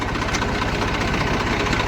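A farm tractor engine idles steadily at close range, a continuous low, rhythmic throb with slight knocking vibration and no voices.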